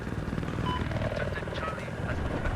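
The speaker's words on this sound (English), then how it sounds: "The helicopter's really high." A helicopter flies in the video game Battlefield 4, its rotor and engine a steady pulsing drone under constant voices talking over it.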